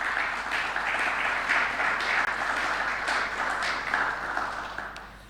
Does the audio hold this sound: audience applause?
yes